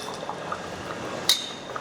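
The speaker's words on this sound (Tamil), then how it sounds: "இப்போ வந்து பார்த்தீங்கன்னா தண்ணி ஆட் பண்ணிக்கிறேன்" Water poured into rice in a pot for nombu kanji, a close, steady liquid pour with light trickling and one brief clink, heard with no talk.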